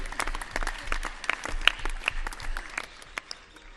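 Children clapping at an outdoor yoga session, scattered uneven claps rising and falling in a loose ragged rhythm, moderately close and fairly sparse rather than a full ovation.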